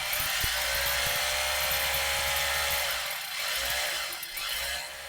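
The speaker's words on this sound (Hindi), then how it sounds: "जैसे कि ये बड़े साइज़ की ड्रिल मशीन है।" Large electric drill machine running steadily at close range, a loud continuous whining motor hum with a slight dip in level near the end, no voices.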